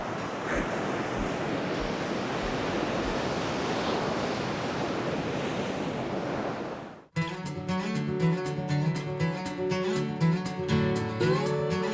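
Steady roar of ocean surf breaking close by on Australia's Great Ocean Road for about seven seconds, then the waves cut off abruptly and music takes over.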